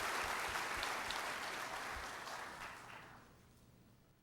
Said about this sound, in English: I hope you'll join me in giving them a round of applause